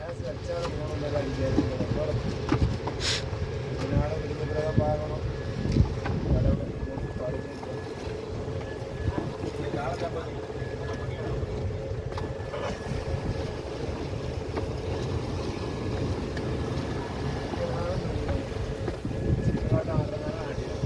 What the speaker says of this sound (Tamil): இன்னைக்கு காற்று கம்மியாக தான் கிடக்கு, பார்த்துக்கோங்க மக்களே. காற்று மக்களே.